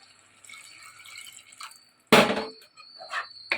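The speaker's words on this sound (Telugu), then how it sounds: "ఇందులో తగినంత వాటర్ పోసుకోండి" Water splashes into Andhra-style mutton curry in a pressure cooker: a short, loud pouring gush after soft background clatter, followed by a couple of fainter wet sounds, close by and without speech.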